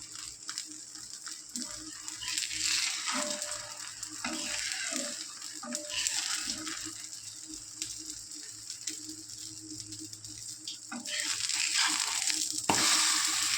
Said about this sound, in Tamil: கேரட் வந்து ரொம்ப வதங்கக்கூடாது சும்மா ஒரு வதக்கு வதக்கிட்டு